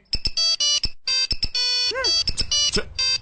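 A mobile phone ringtone plays loudly as a bright repeating electronic melody of short rising and falling tones, with a faint background sound beneath it.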